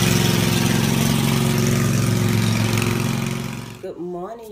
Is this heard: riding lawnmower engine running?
yes